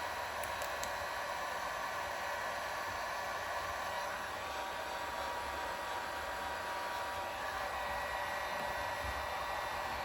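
Heat gun blowing hot air onto the edge of headlight tint film on a Jeep Grand Cherokee, a steady close hiss of rushing air with no talk.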